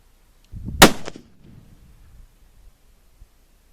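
A single sharp, loud crack from a .270 Browning X-Bolt Medallion rifle fired during group shooting, followed by a brief echo and a quiet tail.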